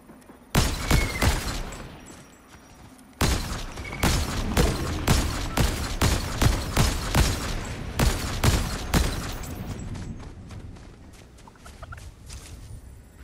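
Rapid bursts of gunfire from a VR shooter game crackle in long strings of sharp cracks, pausing briefly before resuming, then fading to scattered, fainter shots.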